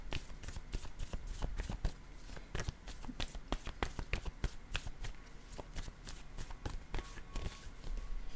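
Tarot cards are shuffled close up in a steady run of crisp riffling snaps and soft slaps, with no voices.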